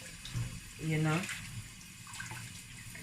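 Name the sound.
water rinsing peeled beans for akara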